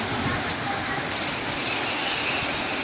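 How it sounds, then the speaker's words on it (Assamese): Heavy rain driven by a windstorm roars as a thick, unbroken wash of water and gusting air, loud and close with no clear voices. "ইমান ডাঙৰকৈ বতাহ বৰষুণ আহিছে।"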